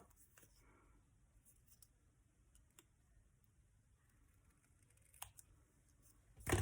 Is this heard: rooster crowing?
no